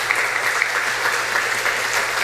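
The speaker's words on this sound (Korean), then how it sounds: "우리 큰 박수로 환영해 주시면 감사하겠습니다." Congregation in a church applauds to welcome new families, a dense, even wash of many hands clapping that stays loud and steady throughout without any talking.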